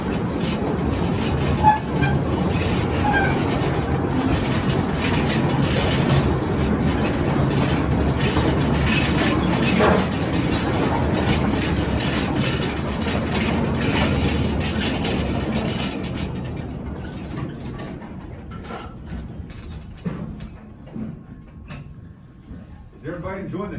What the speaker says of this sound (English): Is everybody enjoying the train ride?